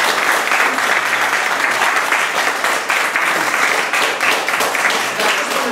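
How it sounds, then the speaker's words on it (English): An audience bursts into loud, sustained applause after a book talk presentation on the East Village and Lower East Side, with dense clapping filling the room from start to finish. "So I want to really get a big round of applause for Marilyn and Marlise and Ono and George and Karen"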